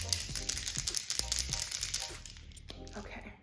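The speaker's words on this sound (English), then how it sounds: "So let's just spray it on our face and see what it looks like." A makeup setting spray bottle is shaken and spritzed, giving a run of rattling clicks and short airy hisses that fade toward the end, with a voice faintly present.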